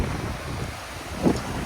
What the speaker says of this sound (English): Well, it's pretty windy.